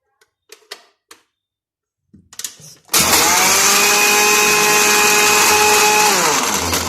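A blender grinds coffee with ice cubes, starting after a few light clinks and knocks, then a loud, harsh motor roar with rattling ice that runs steadily for about four seconds.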